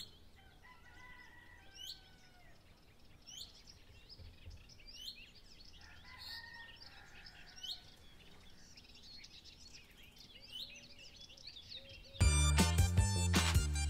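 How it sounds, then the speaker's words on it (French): A common chaffinch (Fringilla coelebs) sings outdoors, short bright trilled phrases repeated every second or two over faint background, before loud music abruptly takes over near the end. "Le Fringilla coeleps, dit pinson des arbres, est un oiseau très coloré"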